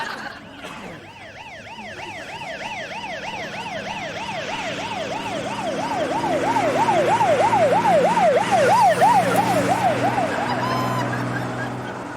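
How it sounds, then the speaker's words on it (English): A wailing siren rises and falls in steady rapid cycles, growing louder as it approaches over a low rumble of traffic. "Now it's a siren."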